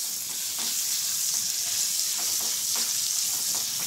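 Onion and garlic sauté in a pan with a loud, continuous close-up sizzle, and occasional soft stirring sounds cut through the bright frying hiss.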